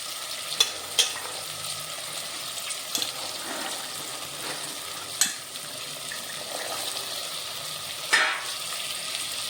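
Mixed vegetables such as capsicum, carrot, peas and cauliflower stir-frying in oil for veg biryani, a constant close sizzle broken by several sharp scraping clacks of a spatula against the pan, with no talking.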